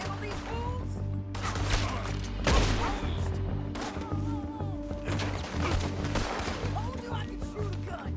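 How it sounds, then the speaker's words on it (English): Scattered gunshots and crashing impacts from a scene with a woman shooting a gun, loud bursts over a dense, busy background with people talking throughout. "Told you I could shoot a gun, didn't I?"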